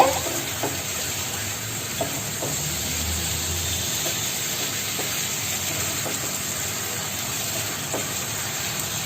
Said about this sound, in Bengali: একটু ভালো করে কষিয়ে নিচ্ছি।